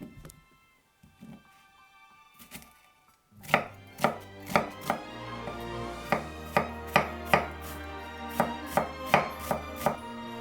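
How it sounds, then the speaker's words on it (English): A knife minces an onion on a cutting board: after a few quiet seconds, about fifteen crisp, evenly spaced chops ring out close up in a steady rhythm. "Mince 1 onion,"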